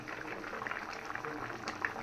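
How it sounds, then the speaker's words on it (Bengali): Fried fish pieces go into a pot of simmering potato curry, with a steady, close bubbling and soft liquid churning that continues evenly throughout. "এই পর্যায়ে আমি ভাজা মাছগুলো দিয়ে দিতেছি।"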